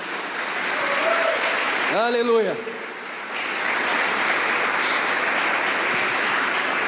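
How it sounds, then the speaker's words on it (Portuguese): A church congregation applauds in a steady, moderately loud clatter of clapping that dips briefly while one voice calls out, then picks up again and carries on evenly. "Eu aplaudia o Senhor só por causa disso"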